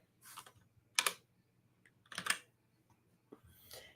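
Computer keyboard typing in short bursts of rapid, close clicks separated by pauses, fairly quiet with no talking.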